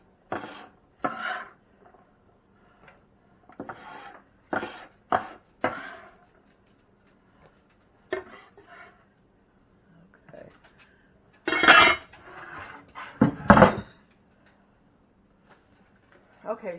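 Chopped celery and onions tumble into a crock pot for chicken tortellini soup, with several short scraping and clattering bursts of vegetables and utensils against the pot, separated by quiet gaps, fairly close.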